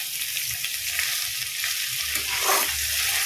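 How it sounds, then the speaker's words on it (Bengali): Broccoli frying in a pan, giving a loud, steady close-up sizzle that swells slightly toward the end, with soft stirring movement and no voices. "ব্রোকলিগুলো দিয়ে আমাকে আবার একটু ভালো করে ভাজা করে নিতে হবে"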